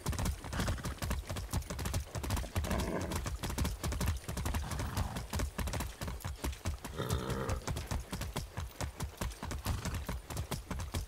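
Horse hooves clip-clopping in the video game Far Cry 6, a steady rapid rhythm of close, loud hoofbeats throughout, with some faint game ambience underneath.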